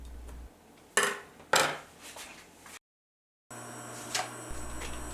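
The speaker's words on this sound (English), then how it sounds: "Slice carrot very thin and julienne the slices." Carrot sliced very thin for bibimbap, with two sharp knife strikes against a board near the start, then a brief silent gap and quieter kitchen handling.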